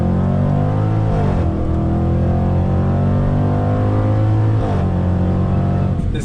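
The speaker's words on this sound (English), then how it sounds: "The sound of the shifts." A 2020 Jaguar F-Pace SVR performance SUV accelerates hard with a loud, close engine note that climbs in pitch, then drops sharply at each of two quick gear shifts before rising again.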